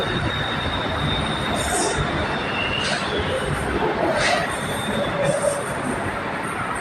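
A BTS Skytrain on the Silom line moves along platform 3 at Saphan Taksin station, a loud rumbling roar with high metallic wheel squeals rising and fading, heard at close range.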